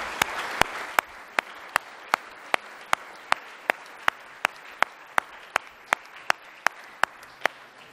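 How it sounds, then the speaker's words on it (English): A lecture audience applauds a visiting Stanford professor with a soft, even wash of clapping, while sharp, evenly spaced clicks tick steadily through the whole stretch. "A big round of applause for Matthew."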